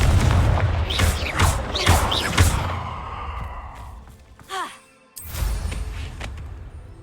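A Confringo fire spell explodes in Hogwarts Legacy, with several loud booming blasts in the first few seconds followed by crackling and a brief whooshing swell. Distant rumbling carries on afterward.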